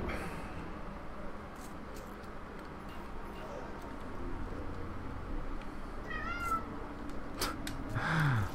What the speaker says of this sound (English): Oh, cats, eh?